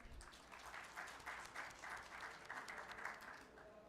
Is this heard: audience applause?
yes